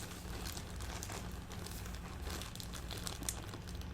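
Steady crinkling of a plastic bag around a new zipper pouch being opened, close and continuous for a few seconds, with no talking.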